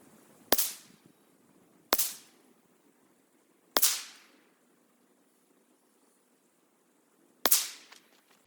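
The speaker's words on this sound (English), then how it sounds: "we're gonna be shooting that one with it suppressed and see if we can group tighter" Suppressed Ruger 57 pistol fitted with an EFK Fire Dragon suppressor fires four sharp, spaced shots outdoors, each a loud crack with a short decaying tail, with no talk.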